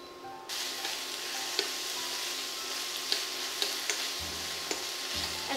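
Onion sautéing in a pan for a Moroccan lentil pilaf: a steady, even sizzle that starts abruptly and continues throughout, with scattered faint clicks from a utensil and no speech.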